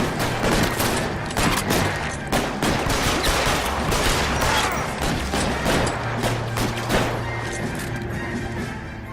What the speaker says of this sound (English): Fine, we'll just shoot you.